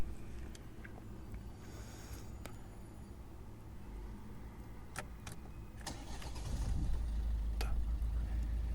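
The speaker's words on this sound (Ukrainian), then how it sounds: "Покажемо, як легко він заводиться, як гарно працює мотор." After some quiet shuffling, the 1.6 diesel engine of a 2011 Volvo V50 with manual transmission cranks and fires up, then settles into a steady, low rumbling idle.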